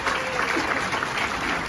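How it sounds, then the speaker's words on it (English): A conference and expo audience claps in a dense, steady burst of applause, with some crowd noise mixed in throughout. "can you all give a big round of applause for Gabe, who's going to come up and help us with thi"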